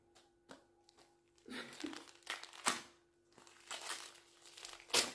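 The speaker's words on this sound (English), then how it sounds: "She's trying to unwrap it." Wrapping paper on a Christmas present crinkles and tears in soft, irregular bursts as it is unwrapped at home on Christmas morning. The sound is quiet and close, with a few sharper rustles.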